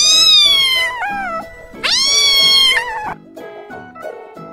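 A cat meows loudly several times, long drawn-out cries alternating with shorter, softer mews, close by and alone.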